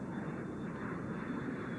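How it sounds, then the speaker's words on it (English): Airplane engine droning steadily inside the cabin while preparing for takeoff, a continuous broad roar with no breaks, loud and close. "we're on the plane, we're set. We're preparing for takeoff."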